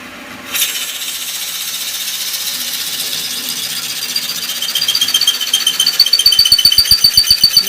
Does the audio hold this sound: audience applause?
no